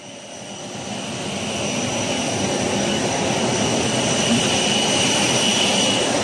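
An airplane jet engine at an airport rises to a loud, sustained whine and roar over the first two seconds, then holds steady, with no voices.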